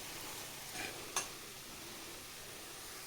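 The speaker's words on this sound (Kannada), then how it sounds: "ಇದು 1-2 ಮಿನಿಟ್ಸ್ ಫ್ರೈ ಆಗಲಿ" Mushrooms fry with garlic in butter in a pan, a quiet steady sizzle with a couple of brief clicks of stirring, close and faint, no voices.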